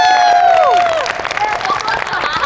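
A group claps at a real-life Squid Game style challenge, scattered hand claps coming in after a loud whistle-like tone that slides downward at the start.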